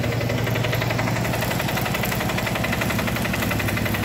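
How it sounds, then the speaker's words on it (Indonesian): A baby roller compactor works hot mix asphalt, its engine running with a steady close rumbling drone and a rapid pulsing vibration throughout, loud and without talk. "Bisa dilihat mesin baby roller yang memadatkan aspal hot mix."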